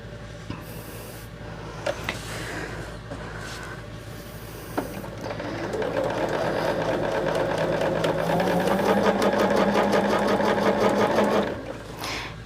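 A sewing machine stitches binding onto the trimmed edge of a quilt. After a few faint handling sounds it runs at a steady, close, buzzing pace for several seconds and then stops near the end.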